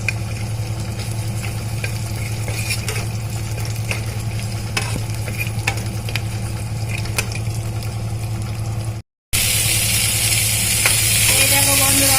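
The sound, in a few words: chopped ginger and garlic frying in ghee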